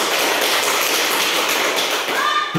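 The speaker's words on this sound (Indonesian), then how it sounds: "Tepuk tangan dulu untuk kelompok 1" A classroom group claps together for a team of students, dense fast hand claps forming a steady loud patter that fades briefly at the end.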